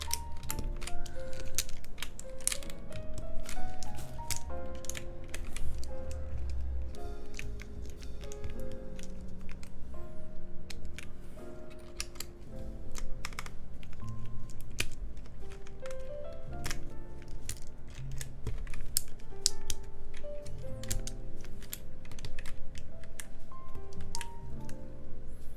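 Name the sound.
keycaps being pressed onto a mechanical keyboard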